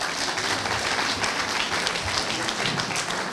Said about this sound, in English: So give yourselves an applause